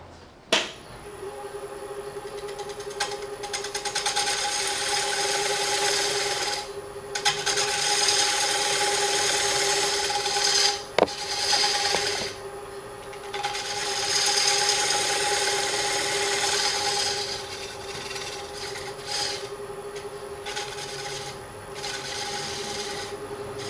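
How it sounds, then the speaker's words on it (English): A 3/8 fingernail gouge cuts a raised rim on a square wooden bowl spinning on a lathe, giving a continuous loud rasping hiss with a steady motor hum and brief pauses between passes. "I'm going to switch to my 3/8 fingernail gouge and finish this raised part here"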